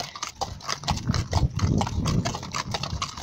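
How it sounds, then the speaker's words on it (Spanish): A horse's hooves clip-clop at a walk, a close, steady run of distinct hoofbeats with a faint occasional engine hum underneath. "Tengo este caballo que me encanta"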